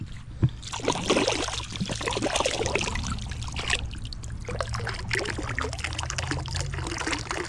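Liquid trickling and oozing from an old cork-topped bottle pulled up while magnet fishing, a soft continuous dribble and splash outdoors near water with no talk.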